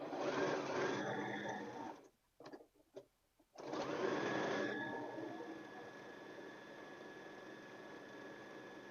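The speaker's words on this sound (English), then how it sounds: "we also need to sew this collar, like sew the collar so that it's professionally done" A sewing machine stitches along a shirt collar with a loud close motor whir, breaks off in short stop-start bursts, then resumes in a longer, slightly quieter run.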